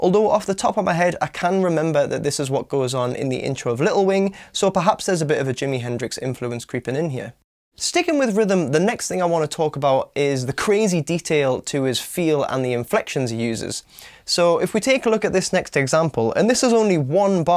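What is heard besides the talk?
None of the usual background noises is heard.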